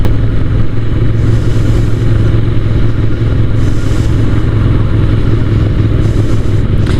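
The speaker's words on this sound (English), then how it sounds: "It does make a whirring noise when it comes to a stop, but it's not seeming to impact the performance of the bike in the slightest" A Ducati motorcycle engine running steadily close by, a loud continuous drone with a low hum and a faint clutch whirr and clatter over it, no voices.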